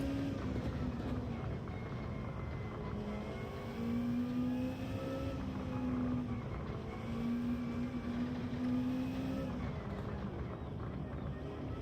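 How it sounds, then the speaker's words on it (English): Racing car engines in Gran Turismo 7 drone and whine continuously, pitch rising and falling as they rev through gears, steady and fairly even in level. "The cars sound better on this particular view"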